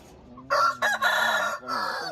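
Rooster crowing among chickens on a poultry farm, a loud drawn-out call with brief breaks over a steady background hum, heard close and alone without talk.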